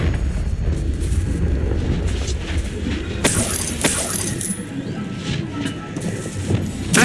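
A Confringo explosion spell bursts in the Hogwarts Legacy video game, with sharp blasts and crackling impacts over a busy, rumbling combat backdrop.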